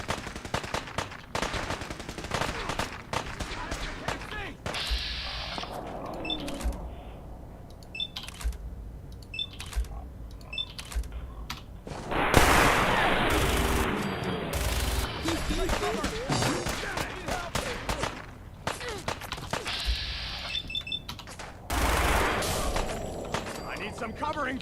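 Gunfire in the Fallout 4 video game, bursts of automatic fire and single shots over a busy backdrop of game effects and beeps, with talking mixed in.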